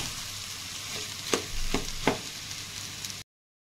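Potato and onion frying in oil in a home kitchen pan, a steady soft sizzle with three or four louder spoon scrapes and knocks as the mixture is stirred, close and fairly quiet, cutting off near the end.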